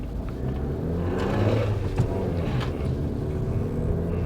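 Maruti Suzuki Grand Vitara AWD with manual gearbox accelerating hard in sports mode, a steady loud engine and road rumble rising slightly in pitch as it pulls, with no talking.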